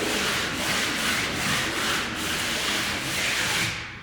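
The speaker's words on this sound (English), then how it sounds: "I get a sanding pad, a very fine one" A steady, fine rubbing scrape of a fine sanding pad passing lightly over a knockdown or orange-peel textured wall, in long continuous strokes with soft rhythmic swells, no talking.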